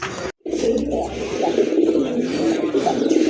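A pair of Rajgolla pigeons coo in soft, rolling burbles at close range, heard beneath someone speaking after a brief drop-out at the start.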